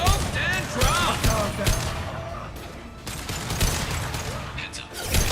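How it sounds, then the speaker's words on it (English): Impact shot gunfire in the video game Mass Effect 2, sharp bursts and crackling shots with mechanical clatter and echoing impacts, loud and near, mixed with game voices and sound effects. "Firing an impact shot!"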